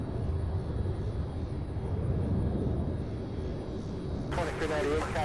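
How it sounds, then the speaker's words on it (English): Delta Boeing 737-900 airliner taking off from Louisville, a steady broadband jet roar sustained throughout at moderate distance, with radio chatter cutting in near the end. "Delta 2398 getting ready to, or not getting ready, actually started flying toward Atlanta. 737-900."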